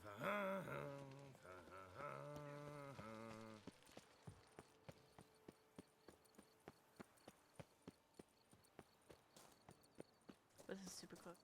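Steady hollow clip-clop of horse hooves in an even walking rhythm in The Witcher 3: Blood and Wine, following a burst of game music at the start.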